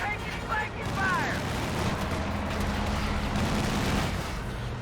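Company of Heroes 2 battle gunfire crackles as scattered distant shots over a dense rumbling wash of combat noise, sustained and moderately loud, with brief whistling tones early on.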